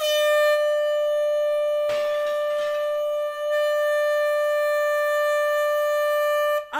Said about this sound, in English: These? Oh, these are air horns.